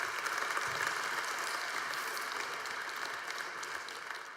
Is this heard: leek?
no